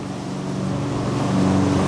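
A neighbor's lawn mower running steadily nearby in a residential backyard, a constant droning engine hum with a buzzing harmonic whine that swells slightly louder, with no voices.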